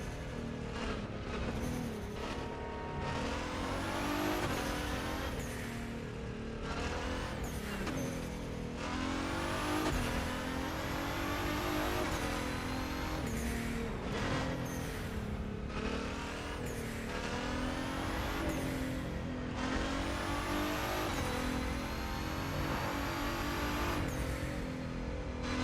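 Car engine in The Crew 2 racing game, a steady loud drone with repeated rises and falls as it revs and shifts, occasional tire squeal, running continuously without talk.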